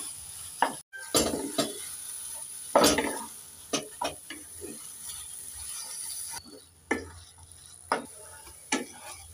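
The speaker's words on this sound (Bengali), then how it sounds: "এবার দিয়ে দেব জল ঝরানো কচু শাক। একটু নেড়ে চেড়ে দিয়ে দেব।" Drained taro leaves are stirred and turned in a frying pan with grated coconut and chickpeas, giving a series of sharp scraping and clacking strokes over a faint background sizzle, close and moderately loud, with no talking.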